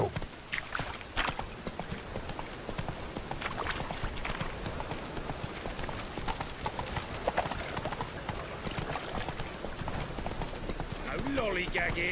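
Roach, the horse in The Witcher 3 video game, galloping with rapid rhythmic clip-clopping hooves throughout, along with game ambience and a brief whinny near the end.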